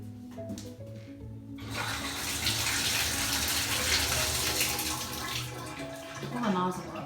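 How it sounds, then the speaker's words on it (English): Water gushes steadily from a nozzle after a quiet start, running loudly for several seconds before tapering off, with voices talking over it. "Pull the nozzle up and then shut it off real quick."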